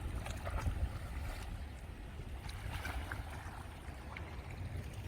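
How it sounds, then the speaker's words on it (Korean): Sea waves surging near a coastal car-camping spot in Muan, a steady close wash of water mixed with gusting wind across the microphone, with no voices. "넘칠 듯 바닷물이 파도를 이루어 넘실거리고 있습니다"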